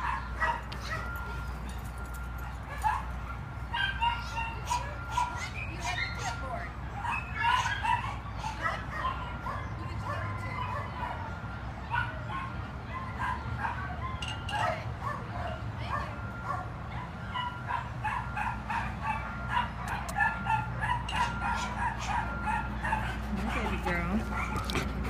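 A small dog yips and whimpers in short bursts, fairly close, with people talking and moving around it throughout.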